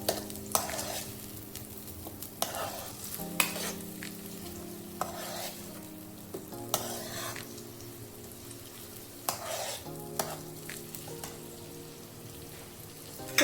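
Onions sizzle steadily in a hot pan on a Surat street-food stall while a utensil stirs and clanks against the metal at irregular intervals, close up with no talking.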